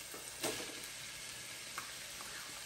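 Chopped onion and a pound of ground beef sizzling in a pan, a faint steady hiss of frying with a couple of soft clicks, no talking.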